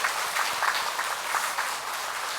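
A church congregation at a feast-day Mass applauds to welcome a visiting priest from Colombia, a steady, fairly distant roomful of clapping hands filling the space without pause.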